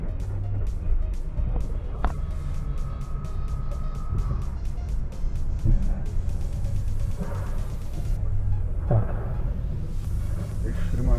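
An electric BMW i3 pulls out of a parking lot near a city centre, giving a low, steady road rumble from inside the cabin with only faint motor sound, while people talk over it.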